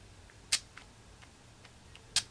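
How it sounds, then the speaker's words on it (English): Two short, sharp hisses of Urban Decay All Nighter setting spray onto a makeup brush, spaced well apart, against a quiet room background. "let's spray the brush"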